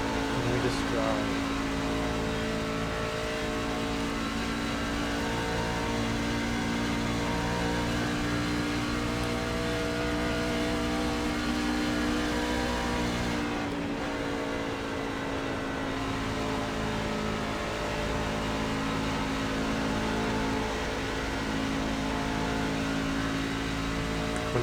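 A racing truck's engine in iRacing at Auto Club roars steadily at high revs, loud and continuous, with a brief dip partway through; a voice talks over it at times.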